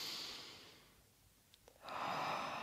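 A slow, soft exhale during seated yoga, then a pause with a few faint clicks before another breath flows out, close and gentle with no talking.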